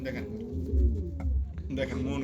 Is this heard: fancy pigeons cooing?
yes